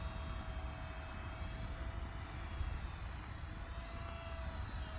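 An Eachine Mini P-47 Razorback Bonnie, a 500mm RTF RC plane, flies at full power into wind, giving a steady, close, high-pitched electric motor and propeller whine with constant wind rumble underneath.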